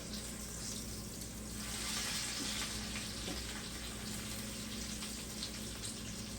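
Chicken cutlets sizzle and spit steadily in a hot pan of oil while being turned over, a dense, continuous close-up crackle with no talking.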